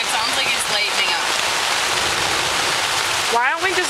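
Rain falling outdoors around a pair of people caught wet, a loud steady hiss of downpour throughout, with brief voices near the end.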